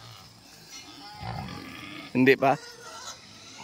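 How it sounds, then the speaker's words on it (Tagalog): Native pigs on a farm grunt in a short burst of two or three close, loud calls, with someone speaking over the livestock noise. "Papakain ng baboy."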